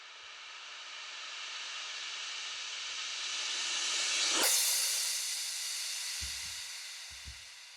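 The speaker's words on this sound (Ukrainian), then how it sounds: "той самий креш я розвернув і трошки розтягнув для того, щоб зробити певний такий транзішн" A reversed, time-stretched crash cymbal used as a transition in a jump-up drum and bass track: a hissing swell builds steadily, peaks in a sharp sucked-in burst, then gives way to a fading wash and a couple of low thuds.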